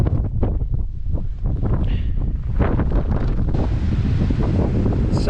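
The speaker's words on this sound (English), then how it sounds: "So we've got a northerly wind" A northerly wind buffets the microphone on a Scottish mountain, gusty low rumbling blasts that rise and fall unevenly, loud and close with no voices.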